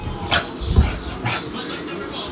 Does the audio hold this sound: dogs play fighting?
yes